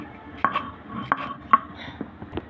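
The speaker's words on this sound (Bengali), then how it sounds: "মশলাটা শিলপাটা গুঁড়ো করা শেষ" Roasted spices are crushed on a shil-pata grinding stone in a home kitchen. Several sharp, hard knocks of stone on stone land at uneven intervals, close and distinct.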